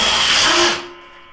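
A Flex 24V impact driver drives a 2.5-inch lag screw with a loud, brief burst of rapid hammering that lasts about three quarters of a second and then cuts off.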